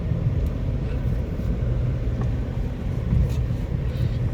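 Vehicle engines labor up a very steep hill road near Karikkal Murugan temple, a dense steady low rumble heard from nearby, continuous with no talking.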